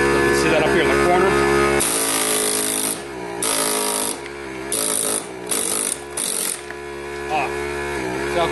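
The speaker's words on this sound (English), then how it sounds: "They come off fairly easy with the air hammer." A pneumatic air hammer knocks gold-plated pins off a scrap circuit board in loud, rattling bursts of about a second each, separated by short pauses, over a steady tonal hum.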